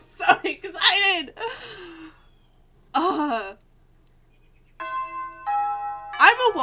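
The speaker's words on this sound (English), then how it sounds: "I'm awoken by the sound of a bell ringing." A bell rings in a video game, a short sustained tone with steady partials heard between bursts of excited talking.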